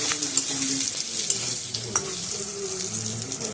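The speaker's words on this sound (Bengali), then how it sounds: "এবার আমি অল্প করে একটু হলুদ দিয়ে বেগুনগুলোকে একটু লাল লাল করে ভেজে নেব।" Eggplant pieces with a little turmeric frying in hot oil, a loud continuous close sizzle with occasional light stirring clicks and scrapes, no voices.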